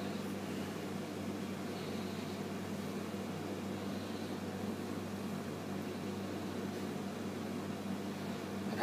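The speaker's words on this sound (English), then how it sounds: "Right by that air conditioning unit is loud." A loud air conditioning unit close by gives a steady, even hum and broadband whoosh that holds unchanged throughout, with no talk over it.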